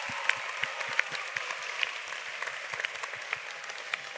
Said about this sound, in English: Everyone, another round of applause for Mr.